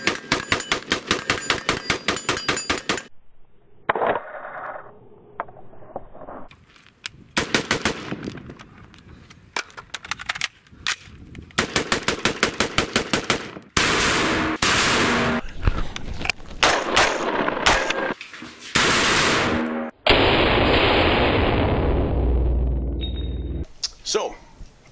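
Palmetto State Armory 10.5-inch AR pistol fired outdoors in rapid strings of sharp, loud cracks, with brief pauses between volleys and a sustained burst of steady automatic-like shots near the end.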